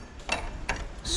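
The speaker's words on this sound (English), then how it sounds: "spanner to kind of crank this and get it to seat or sit." Spanner cranking a fork preload adjuster on a Royal Enfield Himalayan motorcycle, giving a few quick close ratcheting clicks in a brief burst.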